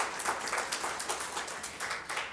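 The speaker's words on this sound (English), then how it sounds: "Let's give Jan and her whole team, her whole ecosystem, a round of applause." Audience applause at a gathering on crisis support for gender-based violence survivors, light pattering claps heard at a moderate distance with no talk over them.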